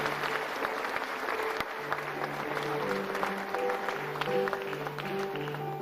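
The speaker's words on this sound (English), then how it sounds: "Shall we welcome them with a big round of applause?" An audience at an honorific law lecture at UPSA Law School, celebrating lawyer Tsatsu Tsikata's lifetime achievements, applauds: a dense, steady wash of clapping lasting several seconds from a sizable crowd in a hall, moderately distant and with no speech over it.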